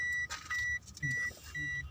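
A car's warning chime rings with the key switched on: four evenly spaced electronic beeps repeat in a steady pattern, clear and close over low cabin rumble and faint background noise.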